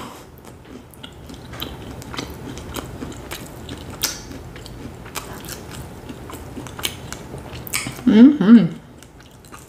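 Chewing a bite of shrimp pizza with turkey bacon and turkey sausage, soft close mouth sounds and crunches running throughout, with a louder burst of bites near the end and a brief murmur from a speaker.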